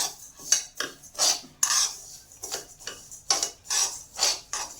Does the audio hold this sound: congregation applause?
no